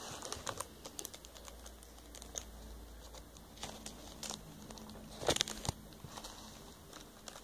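Moshi Monsters trading cards shuffled by hand, giving a quiet run of soft ticking card flicks and rustles with a brief louder clatter midway, with no talk.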